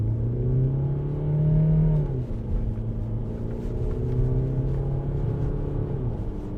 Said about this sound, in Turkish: Abi şöyle duruyorum hemen gazlıyorum arabayla